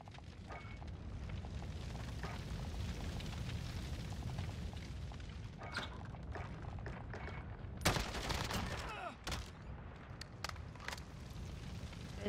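Semi-auto Galil rifle fire in a Modern Warfare Search and Destroy match, a dense, continuous stream of shots and explosive booms, loudest around the middle, with no clear talk over it.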